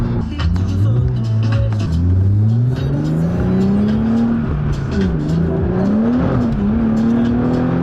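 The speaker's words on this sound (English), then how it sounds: "driving a manual and shifting" A manual car with its muffler removed accelerates through the gears, its loud, raw engine note climbing in pitch, dropping at each shift and rising again, steady and close throughout.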